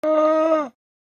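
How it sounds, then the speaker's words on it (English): A llama gives a single short, steady humming call with a clear tonal pitch, close and fairly loud, ending abruptly into silence. "Llama."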